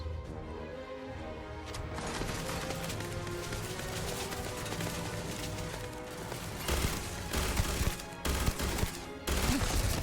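Turret gunfire in the Starfield: Shattered Space video game, dense rapid automatic firing that runs continuously and loud, with sharper bursts and brief breaks toward the end, mixed with game music.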